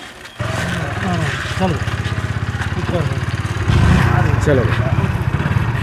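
A motorcycle engine idles and runs steadily nearby, a continuous low rumble that swells slightly louder toward the end, with people talking over it.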